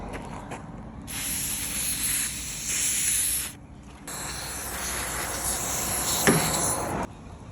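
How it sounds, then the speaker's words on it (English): Lubricant is sprayed into a car door handle in two long aerosol bursts, each a steady close hiss lasting a few seconds, with short gaps and faint handling clicks between them. "Give a good spray and let that stuff drip all the way down the inside."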